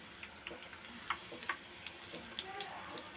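Mulaga bajji, chilli fritters, frying in hot oil, a soft steady sizzle punctuated by small crackles and pops, fairly quiet and close.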